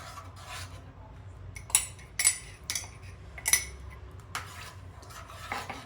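A spoon mixing ragi java porridge in a pot or bowl: soft scraping and stirring with several light metallic clinks at irregular intervals, close and fairly quiet, with no talking.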